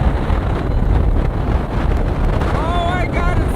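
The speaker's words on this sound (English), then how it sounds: "Oh my god, it's so windy!" Strong wind roars across the open top deck of a ferry bound for Morocco near Gibraltar, buffeting the microphone in loud, steady gusts, with voices calling out near the end.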